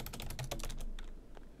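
Fast, loud clatter of typing on a noisy computer keyboard, keys struck in a rapid, slightly uneven burst that slows toward the end, close and alone.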